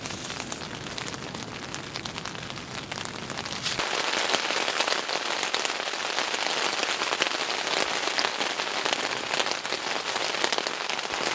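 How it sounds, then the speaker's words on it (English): Heavy rain pours onto a Sierra Designs Clearwing 2 tent in a steady, dense hiss that gets louder and harder partway through and keeps drumming close and continuous, with no voices. "It is absolutely pouring right now, and it is really coming down."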